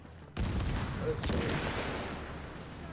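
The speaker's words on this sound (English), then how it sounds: "Why do I hear explosions?" Explosions in a shooter video game set near a UN headquarters with a helicopter: two sudden heavy blasts about a second apart, each trailing into a long, loud rumble that fills the rest of the moment.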